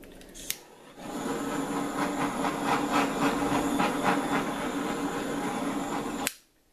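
A steady torch flame hisses over acrylic-poured paint tiles, a continuous broadband roar lasting about five seconds that starts and stops abruptly, with no talking.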